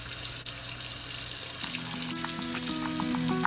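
Water runs steadily from a kitchen tap into the sink while dishes are washed nearby, with a few clinks and rattles of dishes as they are handled.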